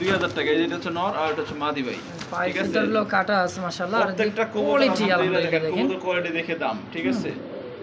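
Pigeons of Lahori, Satin and Bombay breeds coo softly in the background of a pigeon sale, mostly buried under someone talking steadily and close.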